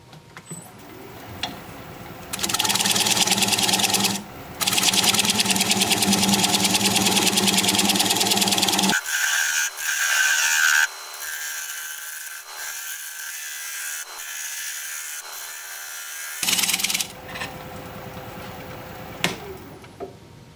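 A wood lathe turns a bark-on bowl while a tool cuts a tenon on its bottom, making a steady, loud rasping hiss in long runs broken by brief pauses and a quieter hum of the spinning machine.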